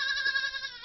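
A goat of an improved breed gives a short, steady, nasal bleat, close and clear, less than a second long.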